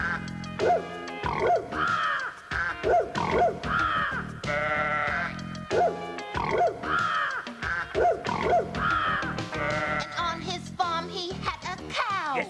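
A performer's voice imitates farm animals in a children's sing-along, with a run of bleating and grunting calls. They come in short repeated bursts, close and clear, with no other sound behind them.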